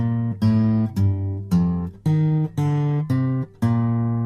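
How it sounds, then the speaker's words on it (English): Eight plucked guitar notes played one after another at an even pace, a low bass line stepping downward, each ringing briefly before the next. "a descending bass note that sounds like this"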